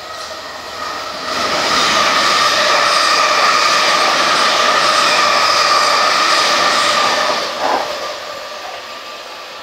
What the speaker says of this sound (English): now passing is the 15:42 service from Guildford to London Waterloo